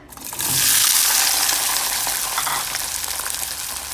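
Small shallots drop into hot coconut oil for nadan cheru ulli vazhattal. A loud hiss bursts up, then settles into a steady crackling sizzle.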